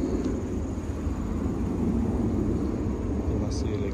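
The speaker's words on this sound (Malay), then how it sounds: "Ada bunyi kapal terbang." A distant airplane drones steadily overhead, a low, even rumble that persists throughout without rising or fading much.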